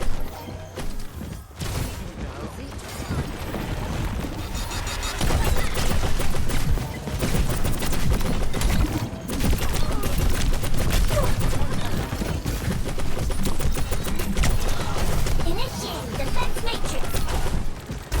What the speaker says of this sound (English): we're going for long-range rockets shooting 2 damage